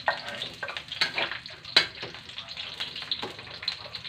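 Shallots, garlic and chili frying in a pan, with a steady loud sizzle and occasional scraping and stirring clicks from a utensil, no voices over it.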